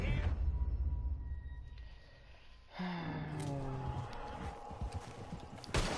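Horse hooves clip-clopping in the video game Red Dead Redemption 2, a rhythmic run of soft muffled steps under game ambience, with brief voice-like sounds and a louder thump at the end.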